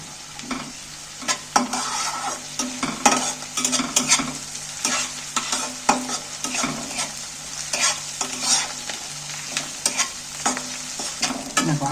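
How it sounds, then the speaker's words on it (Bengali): Ginger-garlic paste frying with onions in hot oil, with a steady sizzle under repeated scraping and clattering strokes of a spoon stirring the pan, close and continuous. "আদা রসুন বাটাটাও তেলের মধ্যে একটু নাড়াচাড়া করে পেঁয়াজের সাথে ভেজে নিচ্ছি"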